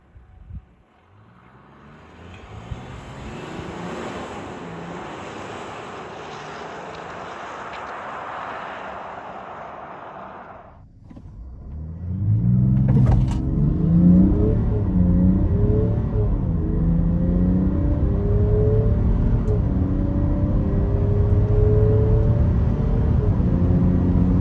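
A new Land Rover Defender held on the brake at its 2,500 RPM limiter before a launch-control start, a steady engine drone followed by a sudden surge into loud, rising acceleration.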